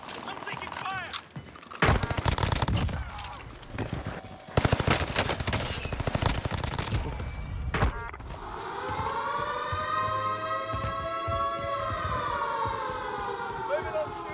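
Video-game combat with bursts of automatic gunfire and sharp shots mixed with voices, followed by a rising and falling siren-like wail that holds steady for several seconds.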